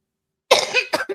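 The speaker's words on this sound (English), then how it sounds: "I've been coughing this whole time." A man coughs in a close, loud burst followed by two shorter coughs, with no talk over it.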